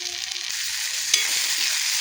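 Tomato tipped into onion already frying in a pan for a bottle gourd curry, giving a steady close sizzle with a brief soft thump and stir partway through.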